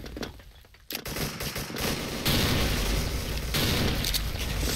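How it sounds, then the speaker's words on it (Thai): A grenade detonates in the shooter game Special Force during an AK-47 firefight, a sudden loud boom rising out of sustained gunfire and rumbling blasts that stay dense and close through the rest of the moment. "ถ้าอย่างนั้นแล้วเนี่ยต้องระเบิดไปหาเขาหน่อยครับ"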